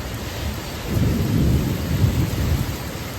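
Heavy downpour in the Philippines with sudden thunder, a steady hiss of rain under a deep rolling rumble that swells midway and lingers, no voices.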